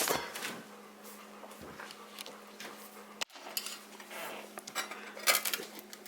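A large spatula scrapes and clatters against a metal pan while lifting a homemade Hawaiian pizza out, a few light metallic knocks and one sharp clunk as it drops, fairly quiet indoors.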